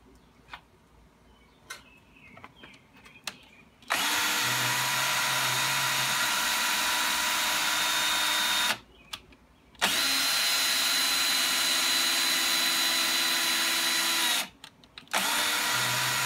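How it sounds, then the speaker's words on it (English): A power drill whirs loudly and steadily in two long runs with a short stop between, preceded by a few faint clicks. "I had got the drill to work"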